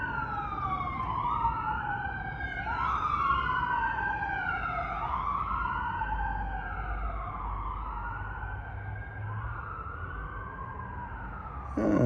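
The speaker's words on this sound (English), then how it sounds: "This is some noise in the background of sirens going by." Emergency vehicle sirens pass by in the background, several wailing tones sweeping up and down and overlapping for the whole stretch, fairly distant over a low traffic rumble, with no talking.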